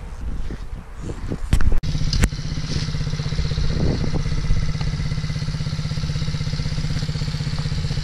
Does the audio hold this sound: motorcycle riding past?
yes